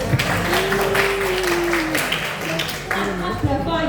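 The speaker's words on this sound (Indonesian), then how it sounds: "Tepuk tangan dulu." An audience applauds in a lecture hall during a medical class on cardiovascular regulation. The clapping is brief, steady and moderately loud, mixed with crowd noise and overlapping voices.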